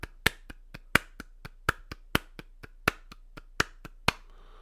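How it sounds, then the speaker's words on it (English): Solo hand claps played in a steady sixteenth-note rhythm with varied force, loud accented claps alternating with softer ones, dry and close, ending in a faint hiss. "if I just clap my hands, that's kind of not much of a rhythm"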